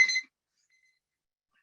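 A single short electronic beep at the very start, bright and tonal, then silence for the rest.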